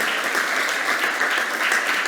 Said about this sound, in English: big applause to Manel